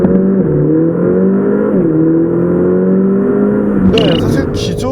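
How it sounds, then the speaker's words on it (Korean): A Mercedes-AMG A45 accelerates hard with a loud, steady engine note that climbs through the revs, drops briefly at each gear change and climbs again. Light clicks come in near the end. "우선 달라진 파워트레인을 기반으로 한 가속 성능에 대해서도 한번 알아볼까요?"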